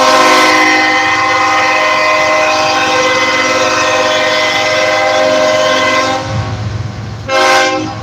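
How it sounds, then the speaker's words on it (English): A loud, sustained train horn blaring very close by, holding for several seconds over rumbling rail noise, then a final short blast. "Having a train super close can be fucking so inconvenient sometimes."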